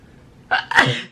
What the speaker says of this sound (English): I really should probably stop sneezing.